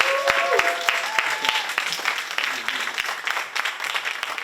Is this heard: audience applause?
yes